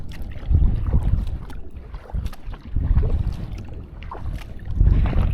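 Kayak paddle strokes on a lake, comparing wing and Euro blades: rhythmic swishing splashes of the blade pulling through water, close and moderately loud, with light wind noise on the microphone.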